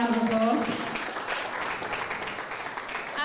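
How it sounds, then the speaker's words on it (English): Guests at a live book launch applaud a couple's 11th wedding anniversary, a burst of clapping that starts under the tail of a speaking voice and continues evenly at moderate loudness. "That deserves a round of applause."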